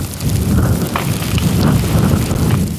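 Freezing rain pours steadily during the 1998 Montreal ice storm, a loud, continuous hiss and patter that holds for a few seconds, with no voices over it.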